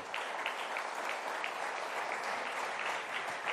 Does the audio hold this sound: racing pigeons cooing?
no